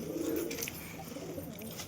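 Pigeons being fed on a rooftop give a brief, low, soft cooing close by, with light rustling after it.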